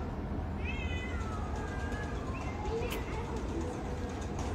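A house cat meows a few times over steady background noise, with the cries rising and falling in the middle of the stretch and no speech over them.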